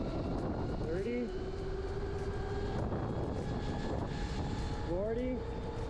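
An electric car at full throttle in sport mode, a steady low drone with a faint rising whine and brief whistling tones, heard from inside the cabin.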